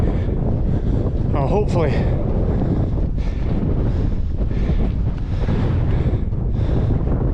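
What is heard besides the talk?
strong wind on a mountain hitting the microphone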